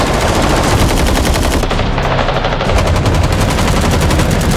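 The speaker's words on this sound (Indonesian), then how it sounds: "muncul mobil pemburu kemudian menembaki mobil peserta" Rapid machine-gun fire from hunter cars shooting at contestants' cars in a film chase, a loud, dense, unbroken burst of automatic shots throughout.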